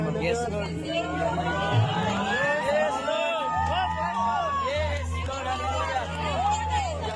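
A crowd at a faith healing session cheers and whoops in a lively hubbub, with many voices chattering and calling out together throughout.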